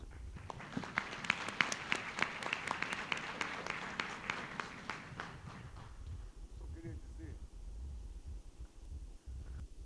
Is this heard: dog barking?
no